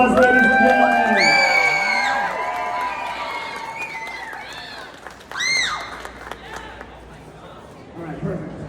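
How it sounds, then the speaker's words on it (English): Crowd applause and cheering at a Pokémon and cosplay costume contest, a moderate burst of clapping with whoops and excited shouts over busy chatter, easing off before a brief renewed cheer. "Let's give a huge round of applause,"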